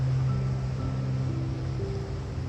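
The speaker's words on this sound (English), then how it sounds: "Hear the ocean waves in the background." Ocean waves washing onto a beach, a steady, continuous wash of surf with a broad rushing roar and faint low hum, no voices present.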